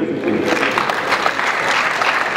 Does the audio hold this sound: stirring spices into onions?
no